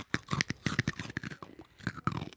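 Small raisins crunched right against a microphone, a burst of close, sharp, irregular chewing crackles and crisp bites packed into a couple of seconds.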